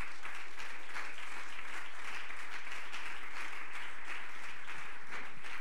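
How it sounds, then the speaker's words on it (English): A church congregation claps together in a steady, rhythmic beat during a sermon, many hands striking in time, continuous and fairly full throughout. "if you believe that, would you clap your hands?"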